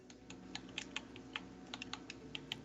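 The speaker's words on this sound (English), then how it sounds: "Oh, I'm hearing some clicking or something. Yeah, sorry, I was typing." Light, irregular clicks of typing on a computer keyboard come through faintly over a quiet background hum during an online tabletop role-playing session, with no talk over them.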